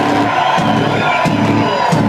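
A concert crowd at a live metal show in Nottingham's Rescue Rooms roars and cheers, a dense, loud wall of shouting voices sustained throughout.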